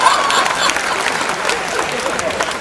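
A hall audience at a Hindi humorous poetry recital applauds steadily and fairly loudly, a continuous wash of clapping with crowd murmur.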